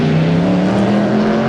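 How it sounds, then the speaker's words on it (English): A Corvette race car pulls out of the pit lane, its engine loud and close with a steady, harsh roar as it accelerates, and no talk over it. "Corvette leaving the pit."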